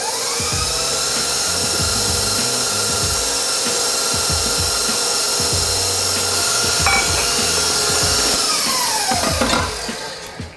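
A kitchen mixer runs steadily at medium-high speed, beating cornmeal and sour cream cake batter as butter is worked in. The motor whirs at a constant, fairly loud level with no talking, then winds down at the very end.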